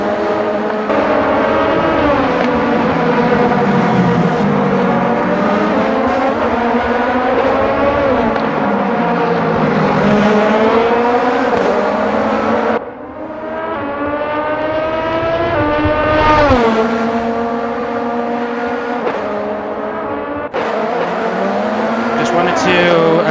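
Race cars roar during qualifying at the bumpy Sebring circuit, their engines running continuously and loud. The pitch climbs and falls as the cars shift and pass, with a brief dip and a fresh surge partway through.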